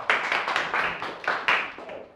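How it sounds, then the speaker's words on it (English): Classroom audience clapping for student debaters at a school debate competition, a short, uneven burst of hand claps with a few louder peaks, close and unaccompanied by speech. "All right, so let's clap for them."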